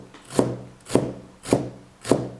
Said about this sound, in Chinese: 洗好的韭菜，我们先给它控一控水分，分2次来切，这样更好切一些